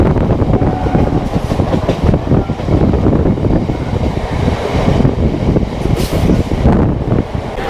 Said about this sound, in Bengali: আর একটা নতুন লোকাল ট্রেন জার্নিতে তোমাদের সবাইকে স্বাগত